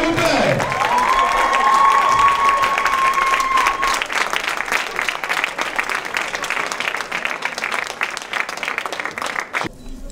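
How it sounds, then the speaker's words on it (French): Audience applause at a televised beauty pageant verdict show, with sustained loud clapping and cheering from a crowd that fades slightly toward the end, a whistle cutting through near the start. "Est-ce qu'on peut applaudir, s'il vous plaît?"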